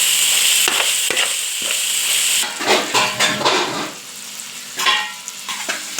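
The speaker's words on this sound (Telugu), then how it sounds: "చికెన్ పీసెస్ అయితే బాగా డ్రై రోస్ట్ అయిపోయింది." Chicken pieces dry roasting in a hot pan for chicken fried rice: a steady sizzle broken by scraping stirs and clinks of a utensil against the pan, close and fairly loud.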